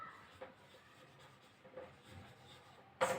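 Chalk or marker scratching across a classroom board in short, quiet strokes, with a sharper, louder scrape right at the end.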